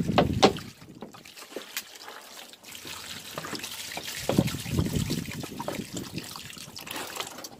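Water splashes and trickles nearby, with a sharp slosh early on, then continuous dribbling and rushing water.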